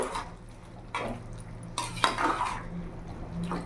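A spoon presses and stirs squash curry in a pan, scraping and clinking against the metal in a few separate strokes at close range, over a faint steady hum, with no speech.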